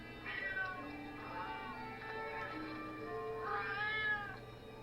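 A cat meows repeatedly across several seconds, with rising and falling drawn-out calls at moderate volume and a faint steady hum beneath.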